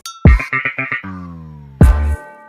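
A synthesized maskandi-style plucked bass guitar melody made in FL Studio with a bouncy rhythm: several short punchy notes, one long sustained tone, then another strong note, playing alone.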